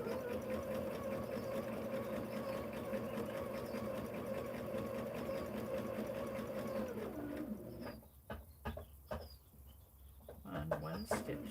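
Sewing machine stitching hexie quilt pieces, a fast steady mechanical whir that runs loudly for about seven seconds, then stops into a few short bursts and clicks, with no voices.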